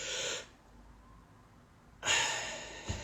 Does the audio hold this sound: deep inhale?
yes